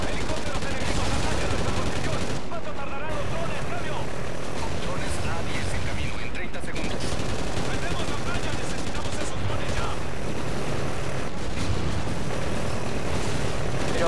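Drone gunfire in Call of Duty Ghosts, dense and loud, sustained bursts mixed with a droning aircraft rotor through the whole stretch, with game voices and speech over it.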